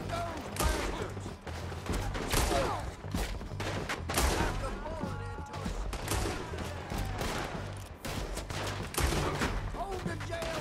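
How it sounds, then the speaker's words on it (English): A gunfight in Red Dead Redemption 2 plays out as a dense, continuous barrage of overlapping rifle and pistol shots, with shouted voices and a music bed running underneath throughout. "Let them have it, boys! Shoot those bastards!"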